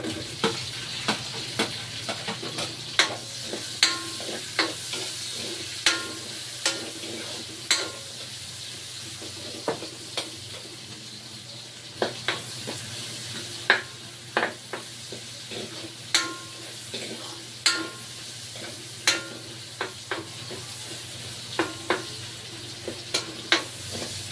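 Onions sizzle steadily in a hot pan for beef kaldereta, with a spatula scraping and clacking against the metal in regular strokes through the frying hiss.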